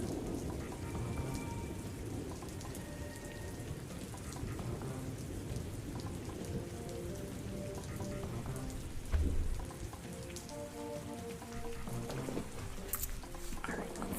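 Steady rain falls with a constant hiss on a rainy day, while low thunder rumbles faintly in the distance underneath, with occasional quiet indoor clinks nearby.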